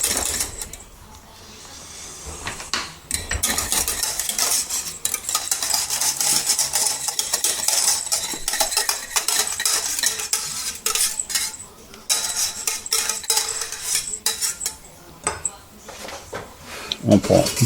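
A small spatula scrapes a flan mixture of caramelised hazelnut praline around a salad bowl, making repeated close rasps and clinks with short pauses between strokes, while a voice talks at times.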